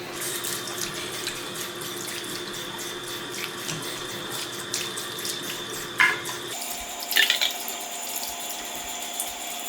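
Tap water runs steadily while a bathtub is rinsed out, a continuous close hiss and splash, with a couple of brief knocks before the flow changes to a thinner, quieter stream near the end.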